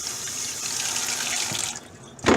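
A fresh rainbow whiting being rinsed under a kitchen tap: a strong, close, steady gush of running water that cuts off near the end, followed by a short splash or clatter.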